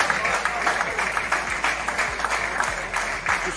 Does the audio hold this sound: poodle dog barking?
no